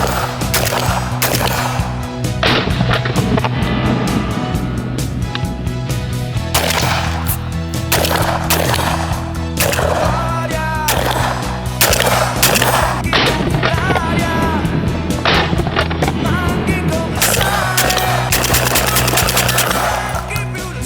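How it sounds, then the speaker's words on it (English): Benelli M4 shotgun firing in a loud, continuous sequence of sharp blasts, apparently mixed with music, the reports coming repeatedly through the whole stretch. "So now you've seen a little bit of the Benelli M4 shooting"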